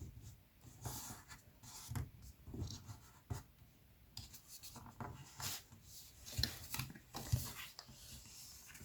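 Paper being folded and creased by hand for a DIY paper Easter basket: quiet, close rustles and brisk rubbing swipes in short bursts, faint and intermittent with small pauses between strokes.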